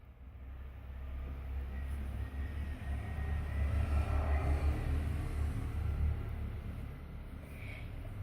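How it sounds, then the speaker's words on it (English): A loud truck passes in the background with a deep, sustained rumble that builds gradually toward the middle and eases slightly without fading away, heard alone with no talk. "Sorry about the loud truck in the background."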